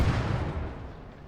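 Mortars fire in a World War II-style strategy game, a single heavy, booming low thump at the start that rolls off into a fading rumble over about a second.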